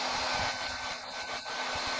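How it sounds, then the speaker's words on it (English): A construction hot-air blower drying Styrofoam roars continuously at close range, a steady loud rushing hiss throughout. "We decided to speed up the process of drying it using a construction hairdryer."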